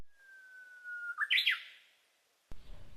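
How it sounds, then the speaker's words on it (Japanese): A Japanese bush warbler sings a single call in spring: a long, steady whistled note gliding into a brighter flourish, clear and fairly close. After a short pause, soft background noise follows. "例えば、ウグイスという鳥の声です。"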